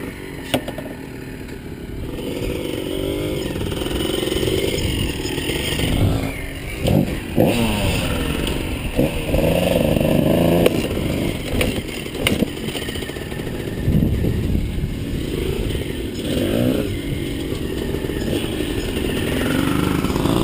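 A small engine runs steadily at a ranch as its idle speed is adjusted upward, a continuous loud rumble with some clatter and slight rises in pitch, with faint voices now and then.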